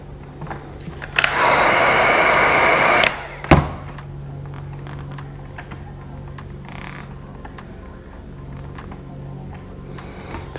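Heat gun blowing hot air onto a vinyl sticker on a helmet: a loud steady whoosh for about two seconds, then a sharp click and quiet rustling handling of the helmet.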